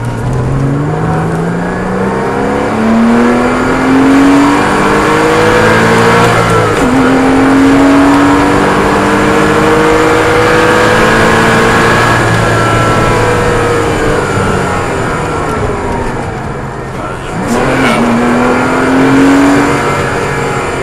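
Car accelerating hard on a race track, the engine revving up through the gears in long rising sweeps with brief dips at each shift, loud and close throughout with no talk.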